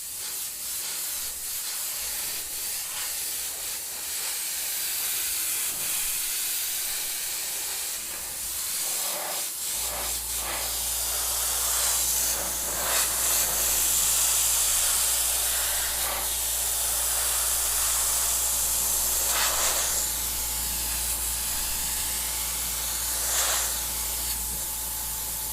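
An airbrush sprays Wicked Opaque red paint for Christmas airbrushing with a continuous airy hiss that swells in short bursts, while a low steady drone joins partway through.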